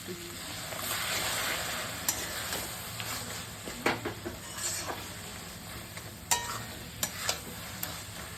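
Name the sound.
hot water poured into cooking raw jackfruit curry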